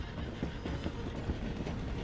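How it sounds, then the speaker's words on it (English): A steam train rolls along in the Red Dead Redemption 2 game, a loud, steady rumble with rhythmic clacking of wheels on rails, heard close and continuous. "The train is slowing down to go through the station."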